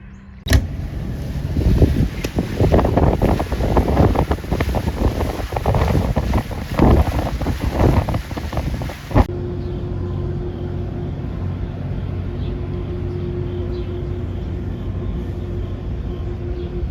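A tugboat's engine drones steadily on the Calumet River, mixed with buffeting wind noise for the first half before the wind drops away and a low, even motor hum carries on alone.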